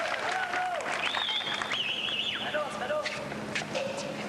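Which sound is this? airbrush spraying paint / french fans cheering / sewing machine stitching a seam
french fans cheering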